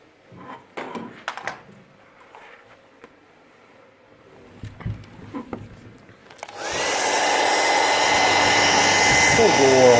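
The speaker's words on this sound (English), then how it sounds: "Full bore on the hairdryer, working it directly at the shrink wrap" After some faint handling clicks and taps, a hair dryer switches on at full power to shrink heat-shrink wrap over a soldered battery pack, a sudden loud, steady whooshing roar that holds to the end.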